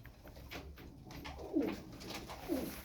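Two soft coos from Polski pigeons, one after another about a second apart, over a quiet background murmur.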